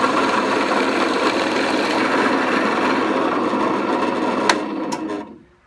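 A steady motorized whir of a drill press drilling into a tripod mount part runs continuously, then winds down and stops near the end.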